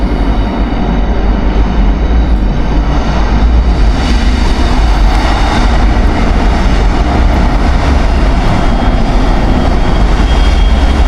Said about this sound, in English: you can hear the trains going by